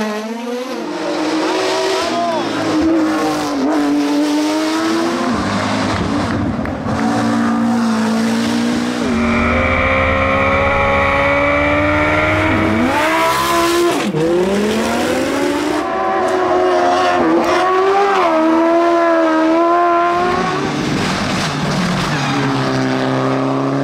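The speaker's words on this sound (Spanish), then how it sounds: "los motores ambientan la banda sonora" Race car engines roar and rev through a Puig Major hill climb in Mallorca, loud rising and falling engine tones carrying continuously, with gear-change dips and a crowd murmuring underneath.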